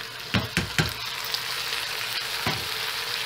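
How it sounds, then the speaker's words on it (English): A steady hiss of sizzling as a clump of noodles is poured into a hot pan, with a few knocks and scrapes against the pan early on and once more near the end. "we are going to pour our big old clump of noodles in there"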